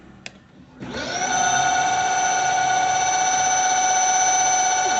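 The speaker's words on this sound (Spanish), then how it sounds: "acelera el motor sin tener de pronto el embobinado a las máximas prestaciones" An electric motor spins up from rest, its whine rising in pitch over about half a second into a steady, loud tonal hum with strong harmonics that holds to the end, with no voices.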